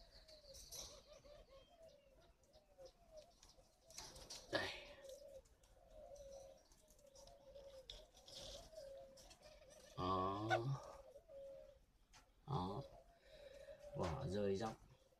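Soft repeated cooing of spotted doves at a bird breeding farm, low rhythmic calls with brief bursts of wing flapping and other bird sounds, and people speaking at times.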